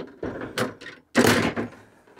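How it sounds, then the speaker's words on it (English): The door of a 1968 Mustang swings and closes with a loud thunk and latch, preceded by a few softer bumps and clunks of metal, close by and with no talk over it. "Okay, the door's latched on the back."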